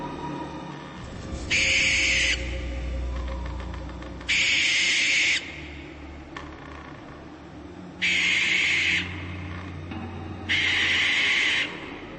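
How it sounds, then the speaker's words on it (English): Halloween animatronic owl screeching: four loud, harsh bursts of about a second each, spaced a few seconds apart, over a steady mechanical hum and low rumble, with no talking. "he makes owl-like screeches, which is pretty creepy"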